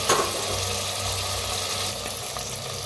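Chicken and its cooking water tip into a pan of lightly roasted spices for chicken soup, bringing a burst of splashing and then a steady frying sizzle.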